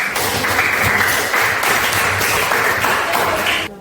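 Classroom of students clapping together in a teaching session, a dense steady patter of applause lasting a few seconds before cutting off abruptly.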